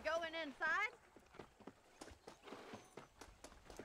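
Hooves clip-clop at a trot in Red Dead Redemption 2 as a horse is ridden, the beats moderately close and coming after a brief burst of voice at the start.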